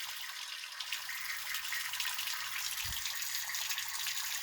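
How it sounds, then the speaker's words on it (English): Water runs steadily out of basement pipes connected to a boiler, a continuous broadband hiss and splash like a tap pouring, close by and alone, with one brief low thump near the end. "why is it a ton of water coming out right here, but no water coming out the boiler?"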